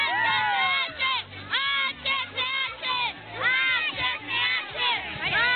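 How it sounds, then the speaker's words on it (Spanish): Crowd of children shouting and cheering together in loud repeated bursts at an outdoor Christmas gathering in a neighborhood, with high excited voices rising and falling in waves. "¡Vamos, un grito, niños!"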